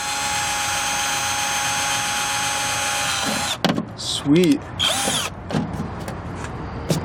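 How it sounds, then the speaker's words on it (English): A power drill whines steadily at high pitch for several seconds while installing a CB radio in a 2007 Chevy Colorado, then cuts off abruptly, followed by a brief spoken remark and some handling noise. "Maybe if we bought a more powerful drill too."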